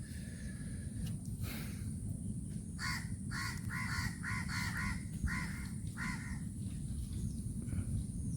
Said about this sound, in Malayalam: പരുന്തൊക്കെ ഇരുന്ന് കരയുന്നു